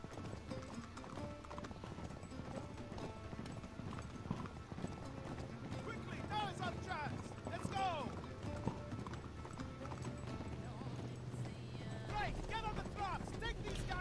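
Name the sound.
horse galloping hooves in video game Uncharted 3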